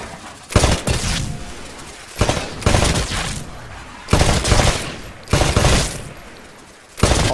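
Rifle fire at shooting-range targets in the Titanfall beta training course: five loud bursts of rapid shots, each lasting about a second, separated by short pauses, with no talk.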